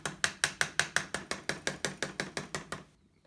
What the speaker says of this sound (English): just take the wrench or a screwdriver or something and just lightly tap on this